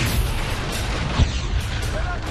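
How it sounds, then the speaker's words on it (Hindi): Russian fighter jet strikes near Irpin, Ukraine, during wartime set off a continuous heavy rumble with one deeper muffled thud of an explosion partway through. "सुबह फाइटर विमान रूस के धमाके करते हुए आगे बढ़ते हैं"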